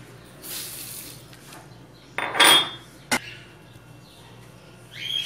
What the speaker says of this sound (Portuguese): Então vamos começar o preparo lavando o arroz.